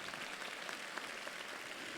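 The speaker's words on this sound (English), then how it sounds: "I think that deserves a round of applause." A university convocation audience gives brief, faint applause, a soft, even patter of clapping from a distance that lasts about two seconds.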